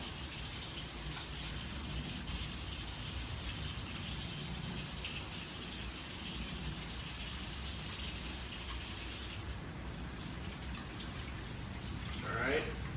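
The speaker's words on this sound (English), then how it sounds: "I'm just gonna wash my hands again" Tap water runs steadily onto hands in a home kitchen, a continuous near hiss of splashing that shifts in tone near the end.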